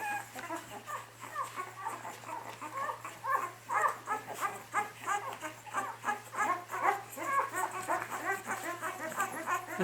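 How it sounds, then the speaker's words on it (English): A litter of twelve-day-old Alapaha Bulldog x American Bulldog puppies whimpers and squeaks close by, with overlapping high cries in a constant chorus and no voices. "So here's all the noisy little puppies at 12 days old now."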